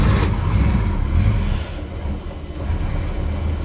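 A restored blue 1978 Dodge Charger R/T with a noisy clutch runs close by, giving a loud low mechanical rumble with rattling and hiss that dips briefly midway and then returns, with no talking.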